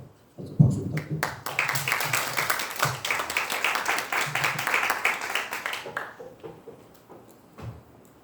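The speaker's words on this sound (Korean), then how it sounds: "박수 부탁드립니다." A seminar audience of teachers applauds a presenter, clapping that starts sharply, swells into steady applause from a roomful of people for several seconds, then thins out and fades.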